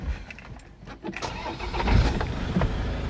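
A 2013 Land Rover Defender 130 with a 2.2 TDCI diesel engine, 90k miles, cranks briefly and fires up close by, then settles into a loud rough idle.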